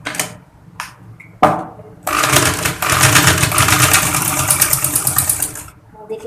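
A sewing machine stitches a folded fabric face mask, starting after a few short clicks and knocks and then running in one fast, steady whirring burst for about four seconds before stopping.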